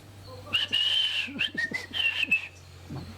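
A person whistles a long, steady, clear tone in imitation of a whistle signal, followed by a few shorter whistled notes. It is fairly close, with quiet background hum and no speech over it.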